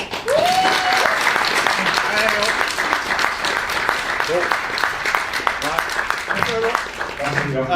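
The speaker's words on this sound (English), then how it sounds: "can you give it up please for the man, the myth, the legend, what is Graham Cole?" Continuous audience applause and cheering fill the whole stretch, loud and close, with voices calling out under the clapping.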